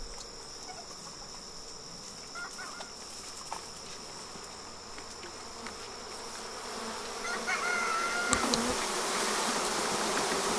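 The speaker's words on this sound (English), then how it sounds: "Of course we have a bee coming up and getting on the microphone and the video camera." A honeybee swarm being shaken into an Apimaye Ergo Plus hive in an apiary gives a dense, continuous buzzing drone that swells louder toward the end, with a few bees passing close by.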